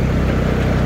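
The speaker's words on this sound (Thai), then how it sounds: "เครื่องยนต์ดีเซล3สูบนะครับ" A Yanmar GC215 combine harvester's three-cylinder diesel engine runs steadily close by, a loud, even low rumble with no talk over it.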